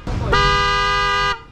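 A new replacement horn on a Suzuki Every Wagon van sounds one steady, loud blast of about a second, close by, with no talking over it.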